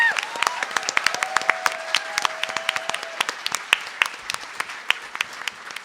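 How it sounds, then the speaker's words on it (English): Scattered audience clapping at a convention voice-acting panel, a thin patter of individual claps that continues for several seconds and slowly thins out. "So, no, give them more applause than that."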